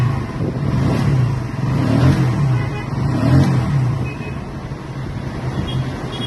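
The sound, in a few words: Bajaj Pulsar NS motorcycle engine starting and running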